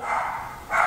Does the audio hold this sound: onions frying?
no